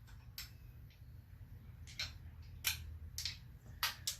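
A socket wrench turns bolts on a Quad 4 timing chain housing, giving a series of crisp ratcheting clicks in short irregular bursts over a low background hum, close and moderately loud.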